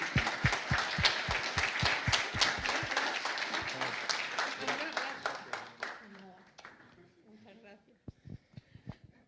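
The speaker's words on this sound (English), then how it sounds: "let's continue, yeah, this warm applause." Warm applause rises from the audience at a tango community meeting, dense and steady at first. It then thins to scattered claps and fades, and a few last claps come at the end.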